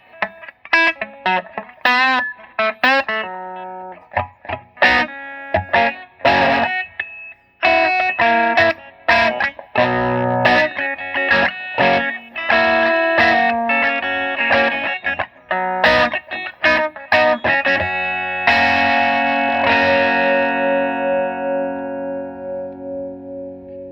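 Electric guitar through a Marshall JTM60 amp with all knobs turned fully up: a loud, driven run of choppy chords and single notes, ending on a long ringing chord that fades out, no voices.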